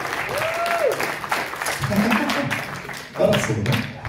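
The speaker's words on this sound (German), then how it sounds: "Also Applaus für Giselle." An audience claps at a film screening in a cinema, steady applause filling the room for a few seconds, with voices and a whistle-like tone rising over the clapping.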